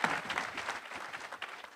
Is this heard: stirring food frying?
no